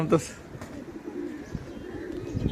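Homing pigeons coo and flutter at a loft as they return from a 17-kilometre toss, close and clear, while someone talks excitedly over the birds throughout.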